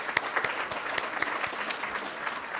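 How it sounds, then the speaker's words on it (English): An audience at a business panel event breaks into applause, a continuous spread of clapping with a few sharper individual claps standing out near the front. "A big round of applause to you guys there in the back."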